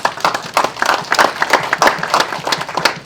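An audience at a food systems panel event gives a round of applause, a short, steady burst of moderately loud clapping from a small crowd, with no talking.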